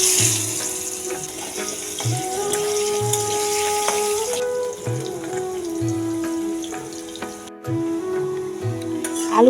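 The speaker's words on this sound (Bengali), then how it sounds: "আলুগুলো ভাজা হয়ে গেছে," Potatoes fry in oil in a home kitchen pan, a continuous sizzle and crackle with some faint tonal hum and brief clatter, heard close and fairly loud without talk.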